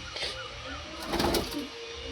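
Pigeons coo softly in a loft where healthy birds are kept through the rainy season, a low murmuring coo rising briefly mid-clip over steady background hum, with no one speaking.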